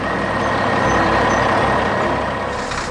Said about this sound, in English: Look, a giant yellow crane truck has arrived.